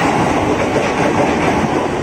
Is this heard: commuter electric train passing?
yes